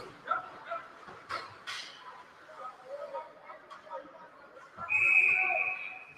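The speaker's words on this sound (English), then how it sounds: "Whistle blows." A sharp, loud referee whistle blast near the end of play at an ice hockey game, heard over crowd noise and commentary-like talk in the background.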